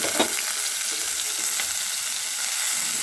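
Chopped spinach and onion fry in a pan for a toor dal spinach curry, giving a loud, unbroken hiss of sizzling that runs alone for a few seconds.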